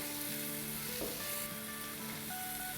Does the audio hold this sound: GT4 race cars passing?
no